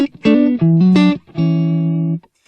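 Clean electric guitar through a Line 6 POD HD300's clean Alchemist amp model, a few bright plucked notes and a sustained chord ringing out, alone and fairly loud.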